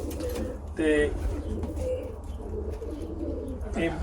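Pigeons coo in a loft with newly hatched squabs, several low throaty coos rising at intervals over a steady background hum, fairly close.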